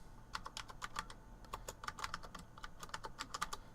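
Quick, irregular keystrokes on an Apple IIGS ADB keyboard, close and fairly quiet, tapping in bursts with brief gaps and no one talking.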